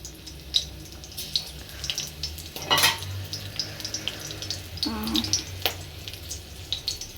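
Bay leaves and green chilies frying in oil for a chickpea curry, a soft low sizzle with scattered pops and a few louder scraping or clattering bursts, fairly quiet and without speech.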